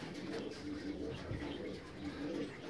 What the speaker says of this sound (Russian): Ну, эту птицу Виктор не гоняет, получает детей.